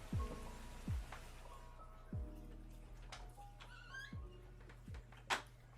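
Toby, a family cat, lets out several short, drawn-out meows that fall in pitch, spaced a second or two apart, close by in a quiet indoor space with soft background noise and no talking.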